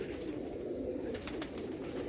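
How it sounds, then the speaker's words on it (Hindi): Domestic almari pigeons kept at home, cooing softly in a low, continuous murmur, close by with a few faint higher chirps over it. "हमारे जो घर के अलमारी वाले कबूतर हैं ना, वो ये हैं।"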